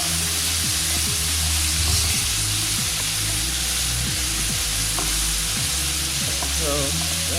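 Curry lamb stew sizzles loudly and steadily in a pan while a spoon scrapes and knocks as the pot is stirred.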